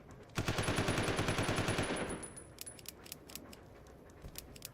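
A burst of submachine gun fire in Resident Evil 0 lasts about two seconds as a fast, loud, steady rattle of shots. Scattered clinking follows, likely spent casings dropping, and then a few isolated sharp clicks.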